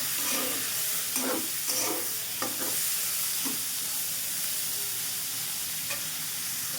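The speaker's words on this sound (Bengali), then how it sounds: "তো পেঁয়াজটা একটু ভাজা ভাজা হোক।" Onions frying in oil with cardamom, cinnamon, bay leaf and cloves, a continuous close sizzle with several stirring scrapes early on, then a steadier hiss.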